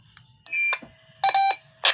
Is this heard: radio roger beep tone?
yes